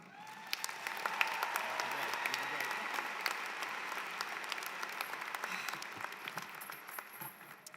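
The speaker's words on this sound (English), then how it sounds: "please greet her with a lot of applause" A graduation commencement audience applauds steadily, dense clapping from a large crowd sustained throughout at moderate distance.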